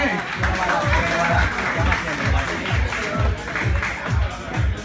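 An audience at a gay Latina beauty pageant claps loudly and steadily for a contestant, with rhythmic thumping music and crowd voices mixed in.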